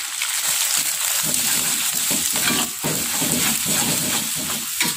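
Long beans stirred with blended spice paste in a hot pan, a steady sizzle and frying hiss with scraping stir strokes throughout, close and loud, no voice.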